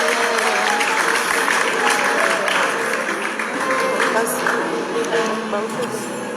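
An audience applauds at a festive celebration in a hall, with steady clapping throughout, mixed with crowd noise and a voice speaking over it.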